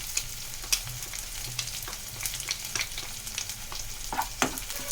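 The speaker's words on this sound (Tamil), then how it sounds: "இப்போ வெங்காயம் நல்லா வதங்கிடுச்சு" Onions sautéing in a pan with chili powder for a Tamil okra curry, a steady close sizzle broken by scraping stirs and occasional clinks, with no talking.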